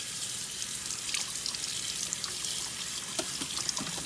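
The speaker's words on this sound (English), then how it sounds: "put our frozen okra that we got out of the freezer in this strainer, and what you're wanting to do is rinse it" Frozen okra rinsed in a strainer under a running tap, a steady hiss of water with small splashes and drips, close and continuous with no talking.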